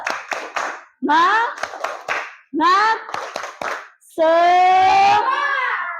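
Sixth-grade schoolchildren in an Indonesian classroom clap in quick bursts between loud chanted phrases of a clapping game, a lively rhythmic call-and-response with voices dominating.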